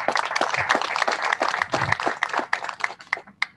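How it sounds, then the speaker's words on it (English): Sparse audience clapping at a university commencement and chancellor installation, a scattered rhythm of individual claps from a modest crowd, fairly close, with no talk over it. "we cannot fail to ask for another round of applause from the audience"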